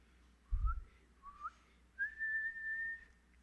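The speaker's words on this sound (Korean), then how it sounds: "휘파람 불 줄 아십니까?" Someone whistles a short tune alone in a quiet room: two brief rising chirps, then one long sustained note, clear and close.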